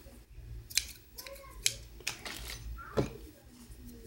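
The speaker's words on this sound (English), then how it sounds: "Cut your yarn," Scissors snip through yarn while finishing a crocheted heart, a few short, sharp cuts close by, set against a quiet room with faint background noise and a little soft talking.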